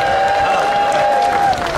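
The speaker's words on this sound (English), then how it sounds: "Come on, give him a big cheer." A crowd at a North West 200 meet-the-riders evening cheers and applauds loudly and steadily, with a sustained whistle-like tone running through the noise.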